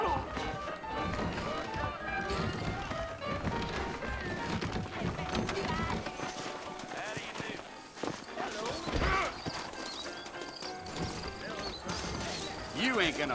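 Saddled horses in the Western video game Red Dead Redemption clip-clop steadily at a trot, with occasional neighs and whinnies over ambient game sound and music, and a voice talking at times.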